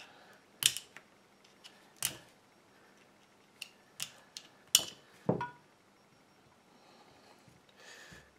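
Metal tools pry at a brass ABUS padlock, producing scattered sharp clicks, snaps and scraping clanks at irregular intervals over quiet background, with no voices.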